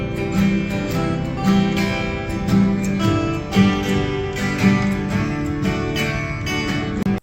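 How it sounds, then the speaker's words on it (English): Several students at a library jam session strum the same standard rhythm guitar part together, a dense, steady wash of chords at a moderate tempo with no talk. "like that standard guitar strum"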